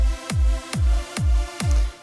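A sustained synth pad rhythmically ducks and swells under a thumping kick through sidechain compression in FL Studio, four even pumping pulses at a steady tempo.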